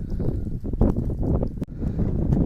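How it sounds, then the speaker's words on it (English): Strong gusty wind by a lake in Pereslavl-Zalessky, Russia, buffets the microphone with a constant low roar and rumble, occasional thumps, and no voices. "we are right by the lake, and it's really windy"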